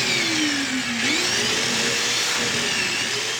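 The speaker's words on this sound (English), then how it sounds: "now to test it out, I'm just using the jigsaw. That should be enough to trigger it." Jigsaw running in a workshop while a dust collection system kicks on, a loud continuous whine and rushing air with shifting pitch, close and steady, no speech.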